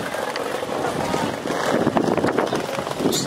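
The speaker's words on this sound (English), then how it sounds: "It's a tad windy." Gusty wind buffets the microphone outdoors in Puerto Rico, a loud, rushing roar that swells and dips across a few seconds, close and continuous.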